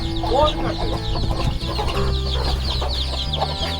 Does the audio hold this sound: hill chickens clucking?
yes